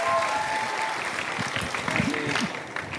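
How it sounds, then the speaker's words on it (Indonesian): Law faculty students at Universitas Islam Bandung applaud at a campus lecture event, a steady dense clapping that fills the room for about three seconds, with a faint voice mixed in underneath. "Tepuk tangan mahasiswa Fakultas Hukum."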